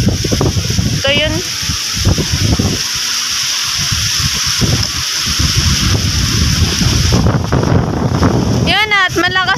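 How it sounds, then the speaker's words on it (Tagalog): Strong monsoon wind buffets the microphone over rough sea and boat engine noise, with bursts of gusting and water slapping throughout. "malakas pa rin ang amihan"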